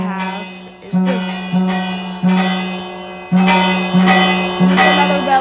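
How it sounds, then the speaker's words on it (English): Fire alarm bell from a home fire alarm setup strikes in repeated loud clangs, each ring decaying with a long metallic tail, hits spaced unevenly and growing denser toward the end. "Another bell that I have is this."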